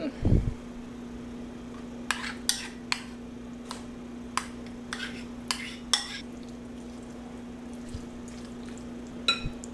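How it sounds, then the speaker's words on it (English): Dressing is mixed into potato salad in a bowl with a series of spaced, crisp scraping taps of a utensil against the bowl, over a low steady hum. "I want to add half of my dressing mixture and mix it up"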